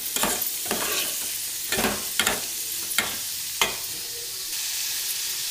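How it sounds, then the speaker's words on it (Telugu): Curry leaves and onions frying in a pan for a paneer curry, a steady close hiss of sizzling oil broken by repeated scraping stirs of a spatula, with no talking. "కరివేపాకు, ఉల్లిపాయలు, ఇది బాగా వేగనిద్దాం."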